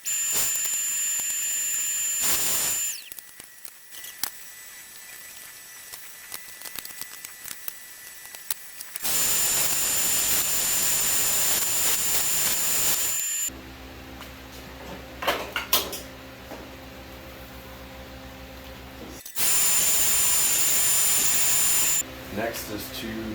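A power saw cuts sacrificial wood strips in three loud, bright bursts of high whining, separated by quieter stretches of lower-level workshop noise and handling sounds.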